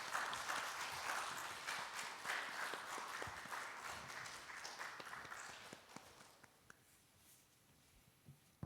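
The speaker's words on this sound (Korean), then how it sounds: "우리 격려하는 마음으로 한번 박수 한번 하면 좋겠습니다." Applause from a church congregation during a Sunday service, dense and steady at first, then thinning and fading toward the end.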